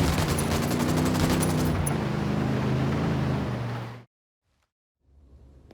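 Rapid automatic gunfire rings out in Ghost Recon Wildlands, loud and continuous over a rumbling background for about four seconds, then cuts to near silence before a faint ambience returns.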